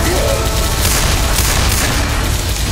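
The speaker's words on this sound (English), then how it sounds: "Good shooting, Tex." Continuous dense gunfire and booming blasts from a zombie co-op shooter game fill the whole stretch, loud and steady like a sustained barrage.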